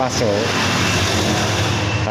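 A single-phase motorcycle's engine idles steadily with a continuous running drone throughout.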